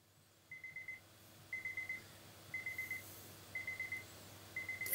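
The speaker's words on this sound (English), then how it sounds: "Fucking alarm clock." An alarm clock rings in repeated bursts of rapid electronic beeps, five evenly spaced clusters of about four pips each, fairly quiet over a low background hum.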